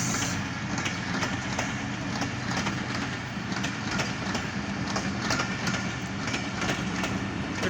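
Pakistan Railways Fareed Express passing near Shaheen Market, Vehari: a steady, loud rumble of rolling wagons with faint rhythmic clatter throughout, no voices.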